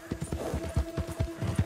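Horse hooves clip-clopping at a walk in the video game Red Dead Redemption 2, an even, regular beat of close, dull thuds with a faint steady hum behind them.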